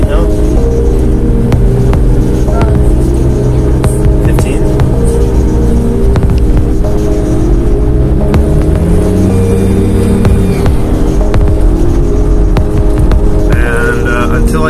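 Mitsubishi 4M40 diesel on a test drive after an engine block drain and radiator cooling system flush: a steady engine hum and road rumble run throughout, with voices talking over it.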